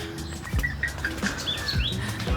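A small bird chirps outdoors in the green hills of Nuwara Eliya, Sri Lanka, giving a handful of short, high tweets over a steady background with occasional soft thumps.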